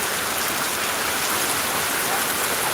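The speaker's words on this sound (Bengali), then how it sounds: "প্রচণ্ড জল বৃষ্টি" Heavy rain pours down in a dense, constant hiss of drops striking surfaces, loud and close, filling the short stretch without any break or thunder.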